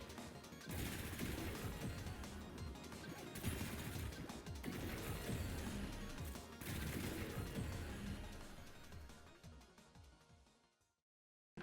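The Cestra Incarnon secondary fires in Warframe as a dense, continuous stream of bullets. Loud bursts of gunfire run in long stretches with brief gaps and end abruptly, with no talk.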